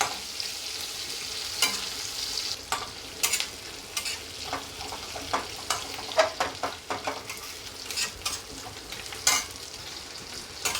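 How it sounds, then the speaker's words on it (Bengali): Chopped onions sizzle steadily in hot oil in a pan for a Bengali bhetki fish kalia, with a constant frying hiss broken by sharp spatula scrapes and taps against the pan, close and fairly quiet. "হালকা করে লাল লাল করে ভাজবো"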